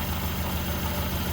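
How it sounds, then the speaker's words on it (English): An old Honda Civic engine with an old alternator idles steadily and close, a continuous low rumble with no talk over it. "It's an old engine, and the alternator is old."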